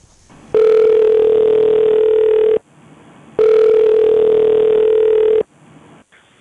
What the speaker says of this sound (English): all he has to do is to find a phone and call